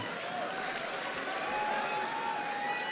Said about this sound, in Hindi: जोरदार तालियां बजाई जाती हैं।